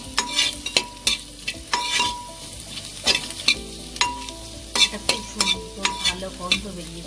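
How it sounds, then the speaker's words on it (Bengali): Chopped garlic and ginger sizzle in hot oil in a pressure cooker for pulao, with a steady frying hiss broken by repeated scraping strokes of a spoon stirring against the metal pot, close and fairly loud, with no talking. "এরপরে দিয়ে দিচ্ছি আমি আদা কুচিটা।"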